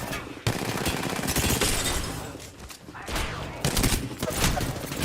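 Video game gunfire rattles in dense, loud bursts of rapid shots with brief gaps between volleys, sounding like automatic weapons fire.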